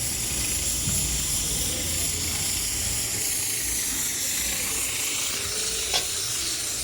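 Roti cooks on a hot pan with oil, giving a steady, close sizzle and hiss with faint scraping throughout.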